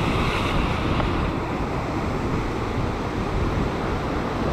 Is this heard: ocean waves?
yes